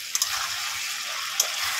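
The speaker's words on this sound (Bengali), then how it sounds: "ভালো করে মশলাটাকে এবারে কষিয়ে নেব।" Spices with chili powder, turmeric and salt sizzling in hot oil in a pan for a wedding-style beef curry, a steady bright crackling hiss with a few sharper pops.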